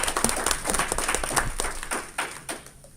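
Audience applause at the welcome of the first GEP NRSD alumni conference, a moderate crowd clapping with individual claps audible, thinning and becoming sparser toward the end.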